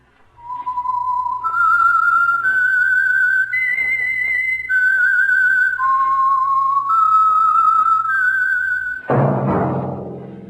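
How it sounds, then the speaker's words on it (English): A clear, melodic whistled tune, several sustained notes rising and falling in steps, ending in a sudden burst of noise. "That whistle is your signal"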